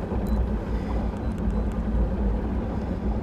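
A low, steady boat motor rumble drones without change as it idles nearby on a bass-fishing lake, with faint splashing above it and no voices.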